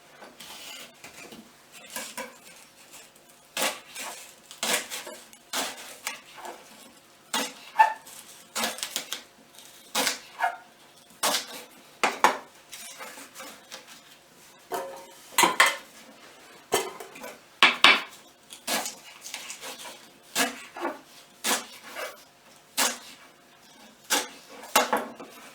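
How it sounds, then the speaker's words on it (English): Repeated crisp knife chops through six rhubarb sticks cut into inch-long pieces on a board, an uneven but steady rhythm of close clicks and thuds continuing throughout. "I'm now going to take 6 sticks of rhubarb and cut them into about 1 inch sized pieces."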